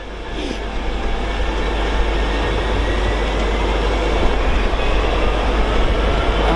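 A Class 66 diesel locomotive, number 66794 in old Railfreight livery, passes through Doncaster station on the East Coast Main Line, a loud, steady roar of engine and rolling wheels with faint clatter, no talking.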